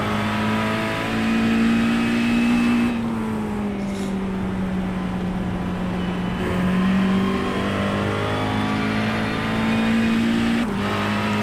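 Ford Mustang GT3 race car engine in the iRacing sim at Summit Point, a loud, sustained in-car drone holding high revs, with brief dips and shifts as it rises and falls through corners.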